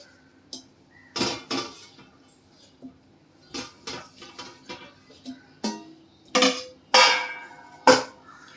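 A large, freshly washed mixer jar being handled as mint leaves go in, giving a series of sharp clinks and knocks of metal and glass, close by and irregularly spaced.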